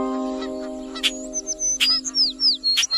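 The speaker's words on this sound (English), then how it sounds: "they saw a group of parrots twittering aloud" A group of parrots twitters and chirps aloud in a cartoon story scene: quick rising and falling calls in a busy run over a steady background hum, with no talk.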